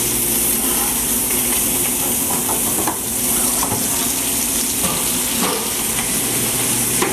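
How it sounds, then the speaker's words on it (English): Loud, steady sizzling and crackling of potato frying in oil at about 350 degrees, continuous throughout with no talking. "we're just going to fry it for a few minutes."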